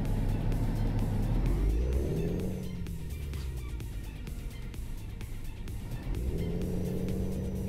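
Scania truck engine in Euro Truck Simulator 2 with a Scania sound pack, a deep diesel rumble that revs up, drops through a gear change and builds again, steady and close with no talk.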